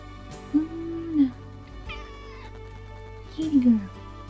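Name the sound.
cat meowing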